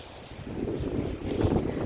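Strong wind blows outdoors in a low, steady roaring rush that swells and buffets the microphone for the whole brief stretch, with no other distinct sounds.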